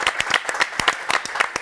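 Studio audience of a Spanish-language television show bursts into applause, dense rapid clapping close and loud, steady and energetic across the whole stretch with no voice over it.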